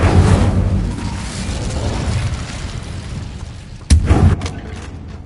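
A fiery Incendio spell from Harry Potter erupts in a loud, rumbling whoosh that slowly fades, followed near the end by a second sharp burst of flame.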